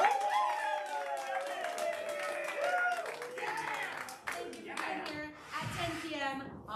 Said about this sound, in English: let's give you a large round of applause